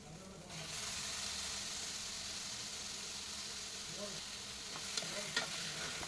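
Chicken pieces sautéing with tomato in a pan for a chicken curry, a steady sizzle with stirring scrapes and a couple of sharper clicks near the end.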